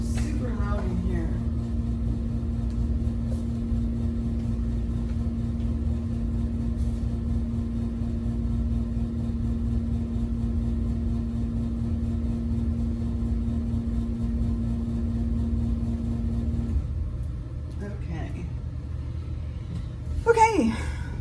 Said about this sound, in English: I'm going to turn the air off before it gets super loud in here